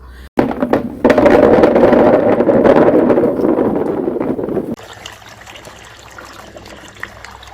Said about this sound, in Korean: 이렇게 물을 좀 넉넉하게 받아갖고